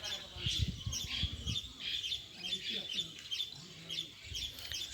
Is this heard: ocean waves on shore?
no